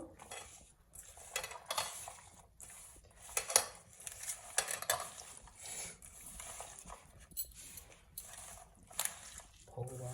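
Chicken mince is worked by hand with black pepper powder and salt for momos in a home kitchen, making faint, irregular soft squelches and light clatter in short bursts.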